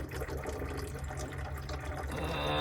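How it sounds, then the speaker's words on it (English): Water pours steadily from a water filter pitcher into a coffee pot, a continuous close rushing and trickling stream that builds slightly louder toward the end, with no talking. "I'm using the water filter thing to pour directly into my coffee pot"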